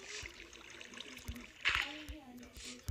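Water being placed in Minecraft Pocket Edition, soft splashing and trickling bursts near a small river, quiet and intermittent with a sharper splash partway through.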